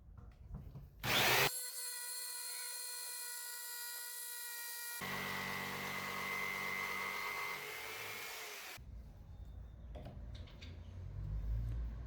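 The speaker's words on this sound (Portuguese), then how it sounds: "decido cortar um pequeno chanfro nos pés para deixar o móvel mais bonito" A power tool whines steadily with a high tonal hum while cutting a small chamfer on wooden legs for a small bathroom cabinet, its pitch shifting midway before it stops, leaving quieter workshop clatter.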